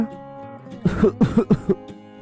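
A cartoon character coughs in a rapid run of four or five harsh, throaty bursts over a soft musical background, loud and close.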